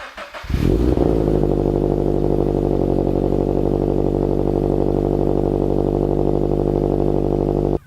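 A Toyota FRS or Subaru BRZ with catless headers cranks and fires up loudly, then settles into a steady, rumbling idle that carries on without pause.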